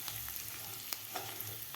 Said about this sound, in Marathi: आता ह्या मसाल्यामध्ये व्यवस्थित आपल्याला हे बटाटे व्यवस्थित परतून घ्यायचे आहेत.